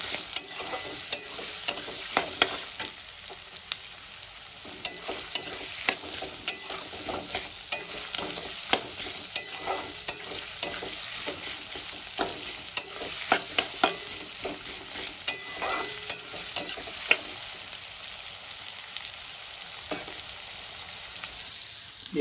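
Sliced onions fry in hot oil, a steady broadband sizzle running throughout with frequent sharp crackles and pops, close and fairly loud, with no voices.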